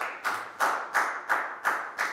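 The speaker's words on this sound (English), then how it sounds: "Big round of applause for Bang Pon." In a Year 4 maths lesson, pupils clap together for a classmate in six even, rhythmic claps, each a bright close burst, with no speech over them.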